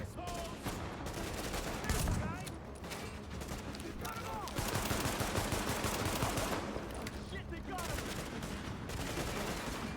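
Dense, continuous video-game gunfire including shotgun blasts, close and heavy, with overlapping shots and explosions in an apocalyptic New York battle, with a voice talking faintly underneath.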